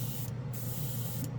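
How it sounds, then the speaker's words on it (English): An airbrush sprays cleaner through during cleaning, a steady close hiss that runs the whole moment without pause and without talk. "What you can do is you spray it till you see it coming out clear."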